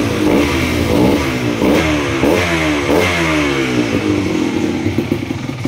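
A Kawasaki KMX 125 motorcycle fitted with a KTM 85cc spark arrester exhaust revs hard and close in a quick repeated rhythm of throttle blips, its raspy two-stroke note rising and falling with no talk.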